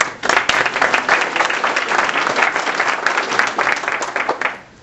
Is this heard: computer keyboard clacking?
no